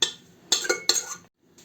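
A baking tray of terinyk, a traditional Hutsul dish, slides into an oven, giving a few close metallic clanks and scrapes in quick succession before a short pause.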